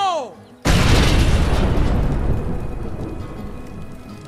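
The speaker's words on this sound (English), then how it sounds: "Okay, we can move now. The blast is done." A big explosion goes off in the zombie survival game State of Decay, a sudden loud boom that rolls into a long rumbling, crackling roar like rain and slowly fades, with a voice audible beforehand.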